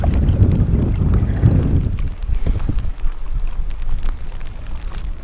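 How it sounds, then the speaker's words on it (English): Strong wind buffets the camera microphone while kayaking in an inflatable kayak on Loch Ness, a loud low roaring rumble that is heaviest at first and then eases to a steadier gusting hiss. "There's quite a hefty backwind. Camera's probably picking that up."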